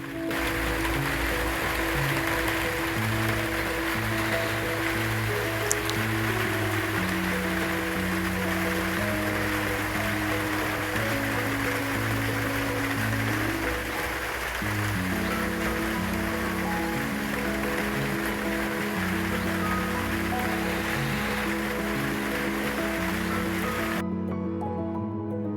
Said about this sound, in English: watching it rain